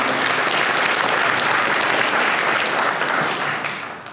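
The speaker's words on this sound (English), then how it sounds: "We can get a round of applause." Steady, dense applause fills a candidates event venue, an audience clapping continuously at even loudness before tapering off near the end.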